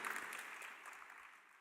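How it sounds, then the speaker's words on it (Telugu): A church congregation claps loudly together to praise God, a brief, faint burst of dense applause that fades over under two seconds. "గట్టిగా చప్పట్లు కొట్టి దేవుని స్తుతిద్దాం"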